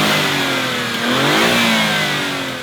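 A 2017 Alfa Romeo Giulia Quadrifoglio with its 2.9-liter twin-turbo 90-degree V6 revs loudly and close, the engine note climbing and sustaining a rising harmonic growl before easing slightly, with no voices.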